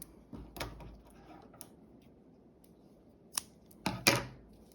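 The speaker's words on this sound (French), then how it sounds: "Je n'ai plus qu'à couper mon fil." Scissors snipping crochet yarn, a few short, crisp cuts and clicks close by, spaced apart in a quiet room.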